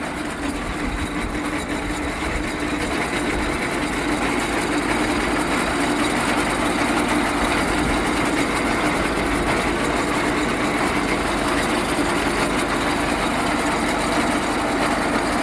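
A heavy-duty tractor winch gearbox runs in reverse with a steady, continuous mechanical drone, loud and unbroken throughout, with no talk over it.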